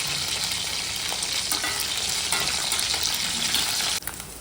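Oil crackles and sizzles loudly and steadily as food shallow-fries in a little extra oil in a steel pan, with a brief stir near the end when the sizzle drops slightly.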